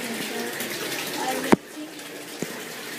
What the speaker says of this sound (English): So I'm actually gonna turn the water off right now.